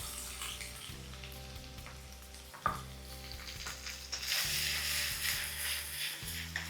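Ginger and garlic pieces fry with dried red chillies in hot oil for a chicken fry, a steady close sizzle with occasional stirring scrapes and one sharp clink, turning brighter and hissier in the second half.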